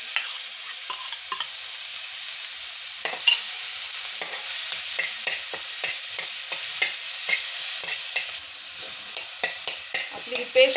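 Green chili and garlic paste sautéing in a pan for masvadi, a steady bright hiss of frying with frequent clicking scrapes of a stirring spoon over nearly eleven seconds, close and unaccompanied by voices.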